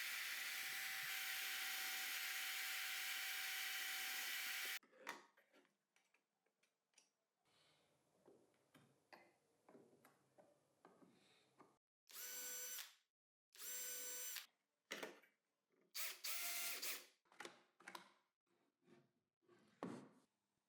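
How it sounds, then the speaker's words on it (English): Column drill press boring custom holes for a DIY blast gate box on a mobile workbench: a steady loud motor whine at first, then repeated bursts of drilling separated by pauses and handling clatter. "so I'll drill some custom holes with a column drill"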